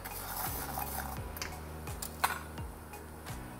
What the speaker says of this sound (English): So let me continue with 5 minutes of stirring and shaking.